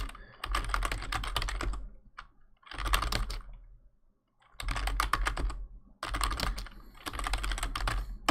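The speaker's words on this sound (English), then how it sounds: "I like the clickety clacking of keyboards in videos" Rapid clicking and clacking of fingers typing on a computer keyboard during a coding session, coming in dense bursts separated by short pauses, close and fairly loud with no talking.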